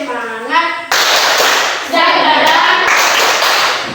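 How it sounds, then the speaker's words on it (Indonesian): A school class does the rhythmic 'tepuk semangat' spirit clap, loud bursts of many children's hands clapping together, with children's voices chanting between and over the claps. "Ketua kelas pimpin. Tepuk semangat."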